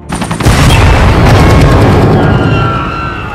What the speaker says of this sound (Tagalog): biglang sumabog ang chopper na ikinamatay ng lahat ng sakay nito